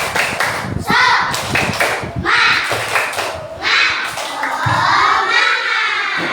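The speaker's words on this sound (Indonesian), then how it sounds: "Tepuk semangat." A classroom of children performs the Indonesian 'tepuk semangat' clapping routine, with loud bursts of rhythmic group claps and energetic chanting voices throughout, close and busy.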